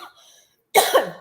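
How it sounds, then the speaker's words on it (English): After a brief moment of near silence, one loud, close cough erupts in two harsh bursts, rough and throaty. "Something is going on with my cough today"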